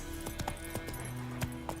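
Roach the horse gallops in The Witcher 3: Wild Hunt, with a steady run of hoofbeats and a few sharper thuds over a constant low game backdrop.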